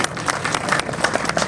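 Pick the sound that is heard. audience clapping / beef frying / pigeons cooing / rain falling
audience clapping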